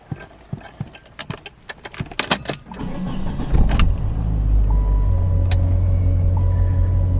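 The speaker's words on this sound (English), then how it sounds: "This is the cold start video of the 1989 Chrysler's TC by Maserati that was requested." A 1989 Chrysler TC by Maserati, unused for about two weeks, cold-starts after a few seconds of rattling and clicking, then settles into a steady, loud, even idle rumble that carries on to the end.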